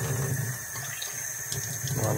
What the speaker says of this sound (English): run water through it, shake it up a little bit